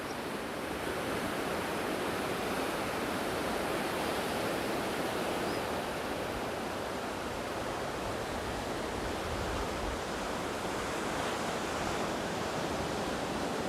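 Steady ocean surf rolls in continuously at Jeffreys Bay near Super Tubes, beside a caravan park; a full, broadband wash of breaking waves, close and loud, with no voices.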